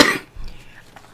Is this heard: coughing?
yes